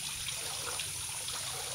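Water draining out of a magur fish tank, a steady close trickling and gushing flow with no pauses.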